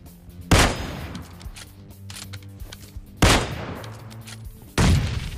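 Grenades explode in PUBG Mobile Lite, three loud blasts spaced a couple of seconds apart, each a sharp burst with a short rumbling tail over quieter game ambience.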